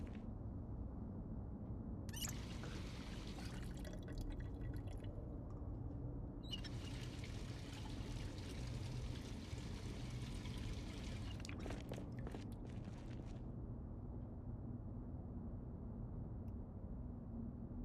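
Water running from a sink into containers in Project Zomboid, a steady rushing pour with stretches of brighter splashing, continuous and moderately loud, heard alone.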